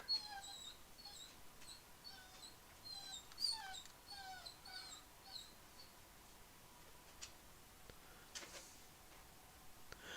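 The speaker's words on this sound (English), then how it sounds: "Sorry if you can hear the dog in the background." A dog whimpering and whining faintly in the background, thin high cries coming in scattered short bursts against a quiet room.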